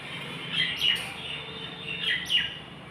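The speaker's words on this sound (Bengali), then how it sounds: "ওই পাখিটা" A bird perched in a tree gives several bright, high chirping calls in short bursts, fairly close, over a quiet outdoor background with no talking.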